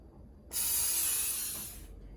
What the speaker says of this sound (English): you're going to want to spray your muffin tin